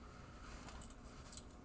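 Keys jangle faintly for a moment during a live studio stream, a soft metallic rattle with one brighter clink near the end over low room noise.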